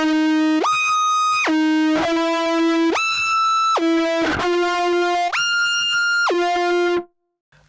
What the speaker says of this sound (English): I use the joystick as a whammy pedal for both sounds, for the guitar and for the synth